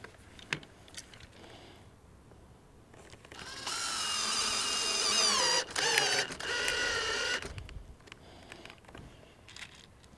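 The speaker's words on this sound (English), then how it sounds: "we're going to set this wood screw right in the middle of the concho, down into the stirrup." Power drill driving a wood screw through a leather concho down into a wooden tapadero stirrup, a steady whirring burst of about four seconds with a brief pause midway, fairly close and loud, framed by quieter handling noise.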